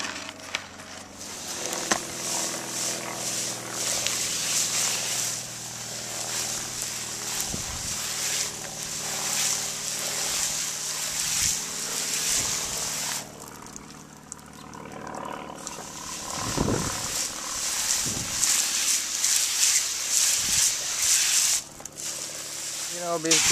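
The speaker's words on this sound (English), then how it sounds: "Now watering." Water poured over a freshly potted Chinese elm bonsai, a steady close splashing and trickling that runs throughout, with a few thumps and brief gaps.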